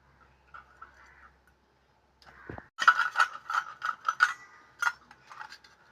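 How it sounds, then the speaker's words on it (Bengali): Raw mango being grated by hand: after a quiet start, a run of rhythmic, scratchy scraping strokes comes close and fairly loud, then tapers into lighter rasps. "আম ঘষা শুরু করে দিয়েছি আমি। এই দেখো আম ঘষছি।"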